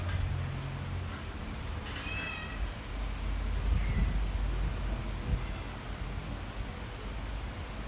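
A cat that has just given birth meows a few times, moderately close, over a constant hiss of background noise.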